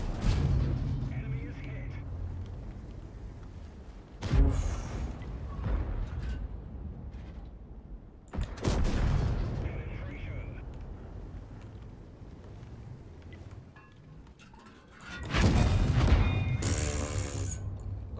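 Tank cannon shots from a Super Conqueror heavy tank in the video game World of Tanks, three booming blasts spaced several seconds apart over a rumbling engine, with someone talking throughout.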